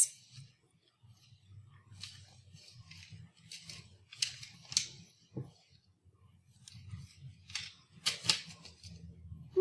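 A spoon's back presses and grinds a tablet into powder, making quiet scraping and crunching clicks in irregular bursts, with soft murmuring beneath.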